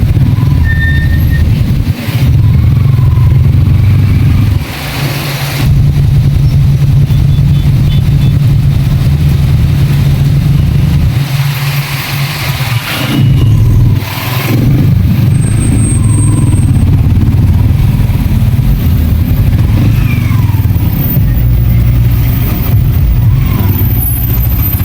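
Busy street traffic in Santa Mesa, Manila, with car and motorcycle engines idling and revving close by, a steady heavy rumble that runs throughout with brief dips.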